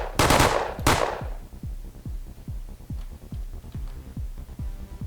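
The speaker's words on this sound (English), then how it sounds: "It's a shotgun. You know, it basically works like a shotgun." A shotgun firing in the game Rogue: Operator Trinity: two loud blasts at the start, then a steady rapid series of thudding shots fading in and out, no voices.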